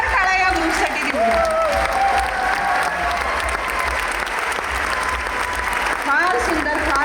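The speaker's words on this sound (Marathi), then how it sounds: "सगळ्यांनी एकदा उभं राहून जोरदार टाळ्या या ग्रुपसाठी देऊ" Loud, sustained applause from a large audience at an evening open-air art festival by a lake, continuous for several seconds, with a voice speaking over it toward the start and again at the end.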